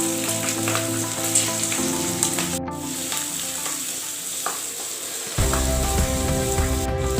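Chopped green chilies, ginger and garlic fry in hot oil for a potato kurma, a steady close sizzle with a brief pause before it swells louder near the end.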